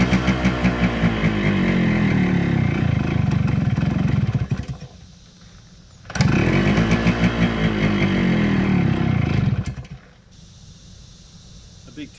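A two-stroke motorcycle engine that won't take throttle runs loud and close with a rough, pulsing note. It drops to a near stall twice and then picks back up each time.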